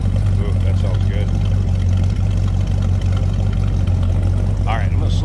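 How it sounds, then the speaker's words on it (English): A big 440 V8 engine in a 1968 Dodge Coronet idles with a deep, throaty exhaust rumble, steady and close, while someone talks over it. "hear a nice throaty growl out of that 440"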